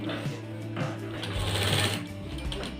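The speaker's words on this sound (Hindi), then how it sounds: "आस्तीन की पट्टी की सिलाई पूरी करेंगे" A sewing machine runs steadily at close range, stitching the sleeve strip of an apple-cut shirt with a fast, continuous mechanical whirr and needle chatter, while a voice is faintly heard under it.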